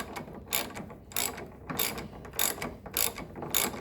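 Hinge pin removal tool working a pin out of a car door hinge, giving six evenly spaced bursts of bright metallic ratcheting clicks, close and fairly loud, with no talking.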